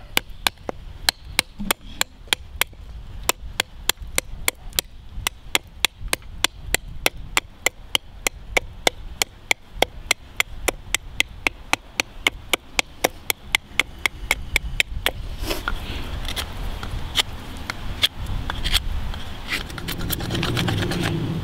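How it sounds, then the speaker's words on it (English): A knife carves the tip of a wooden fire-making spindle, sharp close chopping clicks in a fast regular rhythm, then the cuts stop and a duller rubbing noise remains near the end. "So we're going to carve a nice tip on it."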